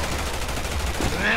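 Dense, rapid gunfire from the video game Resident Evil 6 rattles on without a break, loud and close, with heavy booming bursts layered over one another.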